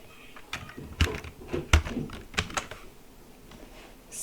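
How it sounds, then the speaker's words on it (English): A computer keyboard is typed on in a short, uneven burst of crisp keystrokes, close and fairly quiet, with no one speaking. "type my word"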